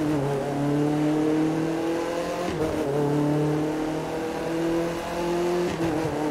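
A Formula 1 race car in The Crew 2 holds a steady high-pitched engine whine that dips briefly twice as it shifts or lifts off, loud and continuous with no talk over it.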